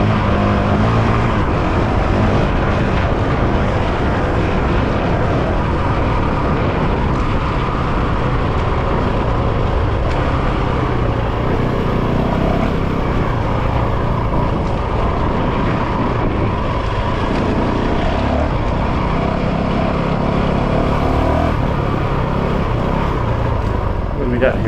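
A Honda CRF 450 RL dirt bike rides along a muddy trail, its engine droning steadily and loudly throughout with rough wind buffeting, while a rider talks over it.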